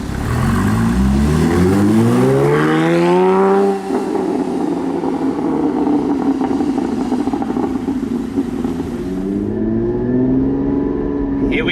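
A Porsche 981 Cayman GT4 with a manual gearbox and an iPE exhaust pulls away, its engine swelling in a rising rev, dipping between gears and climbing again, with a loud, close, burbly exhaust note throughout.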